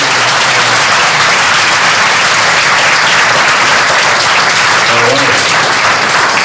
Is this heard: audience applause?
yes